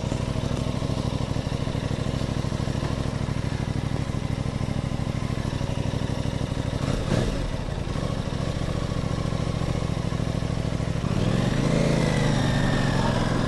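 Aprilia Tuono 660 motorcycle on a short test ride, engine droning steadily with heavy wind rush, briefly dipping before a rising rev near the end.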